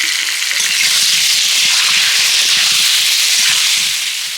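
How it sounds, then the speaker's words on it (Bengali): Potatoes frying in hot oil make a loud, dense, continuous hissing sizzle that stays even throughout, close by and without talk. "আলুগুলোকে এখন আমি লাল লাল করে ভেজে নেব"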